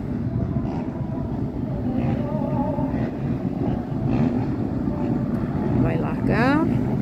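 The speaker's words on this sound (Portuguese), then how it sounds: "Os motores lá do outro lado." Distant motocross motorcycle engines drone from across the track at a Brazilian motocross championship round at Interlagos, forming a steady rumbling wash under close talk, with a rising engine whine near the end.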